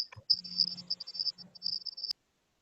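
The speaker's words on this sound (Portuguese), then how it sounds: "Estou escutando um monte de grilo aí na cabeça de vocês aí." Crickets chirp in a fast, shrill, pulsing trill for about two seconds, close and clear against silence, then cut off abruptly.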